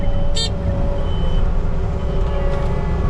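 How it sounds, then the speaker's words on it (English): One short, sharp tractor horn honk rises over the steady low rumble of an idling tractor engine on a septic drain field job, then the engine drones on alone. "I honked the horn at him"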